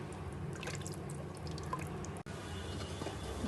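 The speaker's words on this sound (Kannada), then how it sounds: "ವಾಟರ್ ಹಾಕ್ತಾ ಇದ್ದೀನಿ" Water is poured into a cooking pot for mushroom biryani, a soft steady trickle and drip, faint and close, with no voices.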